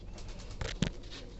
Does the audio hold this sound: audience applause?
no